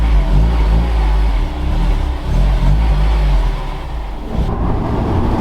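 A Honda S2000 pulls away, its engine a loud close rumble that rises and dips steadily, easing off briefly near the end.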